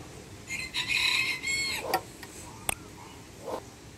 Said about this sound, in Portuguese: O galo tá bom, dando bom dia, pedindo like.